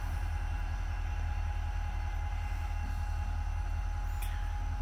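A Norfolk Southern SD40-2 diesel locomotive moves through a rail yard, its engine giving a steady, loud low rumble that drones on without a break, with no talk.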